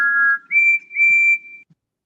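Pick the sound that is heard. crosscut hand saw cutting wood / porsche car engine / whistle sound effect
whistle sound effect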